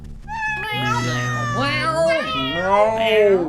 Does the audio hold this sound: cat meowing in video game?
yes